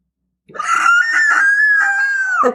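A loud, sustained scream from a terrified woman, rising abruptly after a short silence and holding a shrill, wavering pitch for about two seconds before cutting off, close and alone with no talk.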